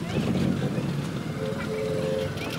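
A homemade Thar-style jeep, built by an auto driver and said to run without fuel, is driven and turned. It gives a steady low rumbling drive noise under continuous nearby talking.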